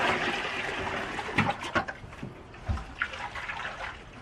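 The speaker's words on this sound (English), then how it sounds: "Add some cold water." Cold water poured into a bucket of warm soapy water for washing, splashing and trickling close by with a few louder sloshes and gurgles, no talk.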